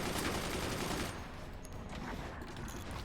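Weapon fire in the Forts artillery strategy game: a dense burst of rapid, loud shots for about a second, then a fading rumble of impacts and debris.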